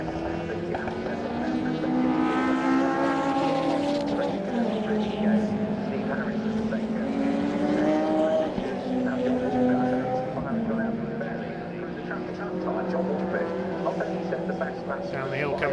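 Sports and saloon racing cars lap Donington Park, a sustained loud engine drone with shifting pitch as cars pass, under continuous commentary.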